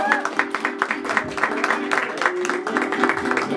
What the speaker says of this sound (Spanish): El aplauso bien bonito.